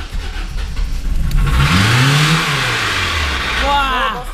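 BMW E36 sedan with the M43B18 engine cranking and firing up, then revving with a rising and falling engine note, loud and close; voices talk over it near the end.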